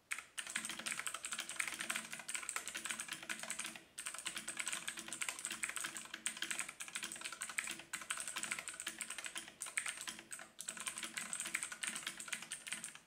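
Continuous fast typing on a T-Dagger Bora mechanical keyboard with blue switches produces a dense, steady stream of crisp clicky keystrokes with only brief pauses, close and fairly quiet.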